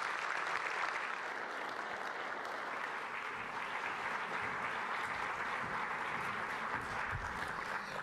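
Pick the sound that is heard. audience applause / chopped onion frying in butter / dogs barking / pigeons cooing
audience applause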